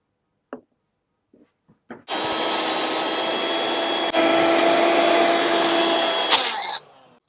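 A kitchen mixer grinds green chillies and curry leaves into a paste, a loud steady whirring roar that runs for about five seconds after a few clicks and taps, then shifts pitch and cuts off.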